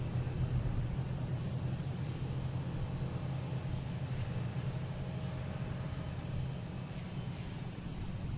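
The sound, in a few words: Cessna 402 airplane flying, Cape Air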